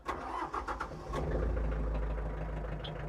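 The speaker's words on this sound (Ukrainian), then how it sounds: "Трактор заводиться просто з півоберту." A Mitsubishi MT 337 tractor engine cranks with a few quick bursts, then catches and settles into a steady, loud low idle rumble.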